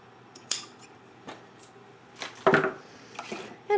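Scissors snipping two identical pieces of decorative trim for a papercraft holiday train, several sharp separate clicks and cuts spaced irregularly, close and fairly quiet.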